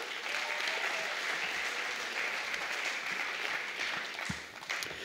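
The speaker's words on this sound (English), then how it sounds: "Let's give him a round of applause." Steady applause fills a graduation and award ceremony hall, a soft, even wash of many hands clapping from a seated audience for several seconds without speech.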